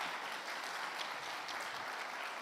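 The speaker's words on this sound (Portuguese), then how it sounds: "Bora aplaudir esse casal lindo aqui" An audience at a youth congress applauds a couple, giving steady, dense clapping that fills the whole moment without a break.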